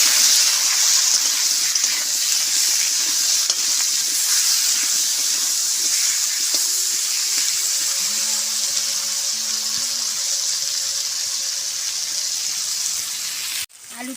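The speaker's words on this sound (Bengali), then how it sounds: "আলুটা আমার অনেকটাই ভাজা হয়ে গেছে" Potatoes fry in hot oil with salt and turmeric, giving a steady, close, even sizzling hiss for most of the stretch before it cuts off abruptly near the end, with faint tonal sounds in the background.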